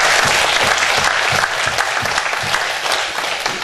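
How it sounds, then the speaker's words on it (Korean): A church congregation at an evening revival service breaks into loud, dense applause, with sustained clapping throughout. "우리 하나님께 영광 박수 주시죠."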